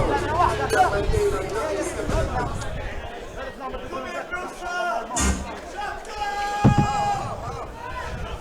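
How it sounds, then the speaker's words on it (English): Crowd noise builds at a boxing event ahead of the sixth and final fight of the night, a steady murmur of chatter and cheering from the arena filling the background beneath a commentator's voice. "Hear the crowd getting behind him already before the starting this sixth and final fight of the night."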